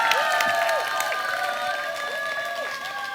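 A crowd at a Korean public talk event claps and cheers continuously, a dense steady patter of many hands with tonal music or feedback-like ringing sustained over it.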